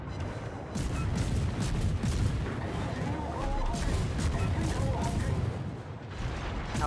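Warship guns fire in the naval battle game World of Warships, a dense, continuous rumble of booming salvos and blasts with voices talking over it throughout.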